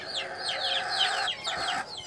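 Desi chickens on an open free-range village poultry farm give repeated short clucks and squawks, fairly faint and close together, over quiet background.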